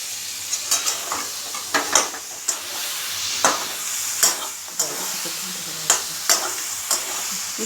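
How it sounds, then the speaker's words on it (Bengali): Chicken frying in a pan, a steady soft sizzle broken by repeated scraping stirs at an uneven rhythm, close and without talk. "একটু ভেজে নেব।"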